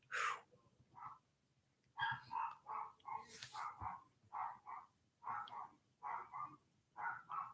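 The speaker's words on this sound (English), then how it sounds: "The dog's barking again." A dog barks repeatedly in short, evenly spaced bursts, moderately close and alone, with one brief higher yelp near the middle.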